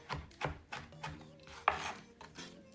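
A knife chopping woody rosemary on a board, close and fairly quiet, in a loose rhythm of about half a dozen firm cuts with slight scraping between them.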